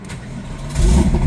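A Porsche 993 engine revs up, its low rumble swelling suddenly into a loud, throaty acceleration close by.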